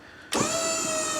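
A rock buggy's rear-steer self-centering actuator kicks on abruptly with a sharp start, then settles into a steady electric motor whine, close and fairly loud.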